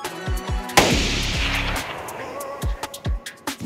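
Gunshots ring out in a DayZ survival game on the Alteria map, a burst of loud sharp cracks followed by a single heavy boom with a long echoing tail, then several more scattered shots at irregular intervals.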